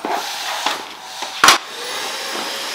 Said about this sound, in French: faut passer un coup d'aspirateur